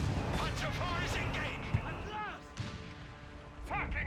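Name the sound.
mortar fire in Company of Heroes 3 video game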